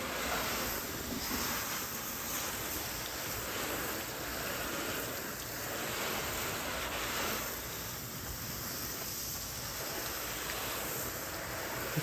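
Steady rushing spray of water from a garden hose rinsing a car, continuous hiss with gentle swells.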